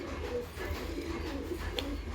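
Pigeons in training, some with wings newly freed, coo steadily through a dense, noisy backdrop, their low murmuring calls running continuously with no voices over them.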